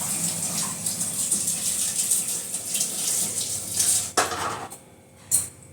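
Raw coconuts washed under a running kitchen tap, with steady splashing water and occasional knocks against the sink throughout, close and moderately loud.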